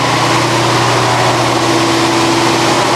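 A Chevrolet Corvette C4 ZR-1 barn find runs at a fast idle around 2,000 RPM, its engine a loud, steady, even drone with a constant low hum and no breaks.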